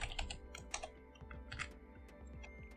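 Quick, close clicks of computer keyboard typing come in irregular bursts, quiet and alone while CSS code is entered.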